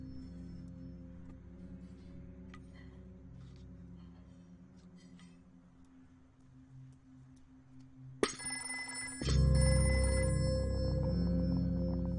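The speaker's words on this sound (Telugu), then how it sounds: "ఇప్పుడే ఫోన్ రావాలా?" A telephone rings with a bright electronic trill during a meal at home, starting late after a quiet stretch and then joined by a loud sustained music swell.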